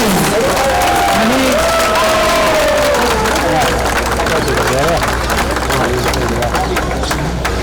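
A large crowd claps and cheers at a garden inauguration celebration, loud and sustained throughout, with a voice speaking over the applause.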